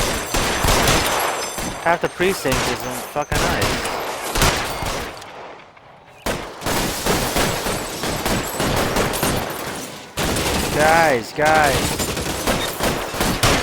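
Gunfire in the video game L.A. Noire, a dense crackle of repeated shots and bursts running through most of the stretch, loud and close, with excited talk over it and one brief lull.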